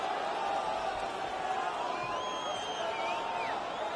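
Arena crowd noise in an NHL hockey video game: a steady, distant roar of a raucous home crowd with a faint whistle-like sweep, heard alone without commentary.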